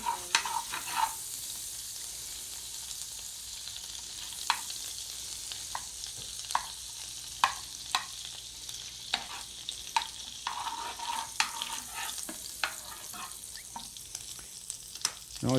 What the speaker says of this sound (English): And we'll fry the vegetables in this.